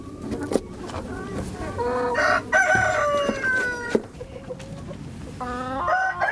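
Hens on a winter organic farm cluck and squawk continuously at close range, with drawn-out rooster crows rising over the busy flock.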